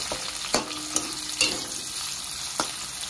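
Chopped onion frying in oil with dried chilli and whole cumin, giving a soft steady sizzle broken by several sharp scraping stir strokes against the pan, with no voices.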